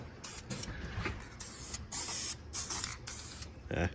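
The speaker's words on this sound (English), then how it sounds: "I might as well paint these also because I really don't like the way they look" Aerosol spray paint hissing in repeated bursts as car parts are coated black in a garage, each spray a few seconds long with brief pauses between, fairly close.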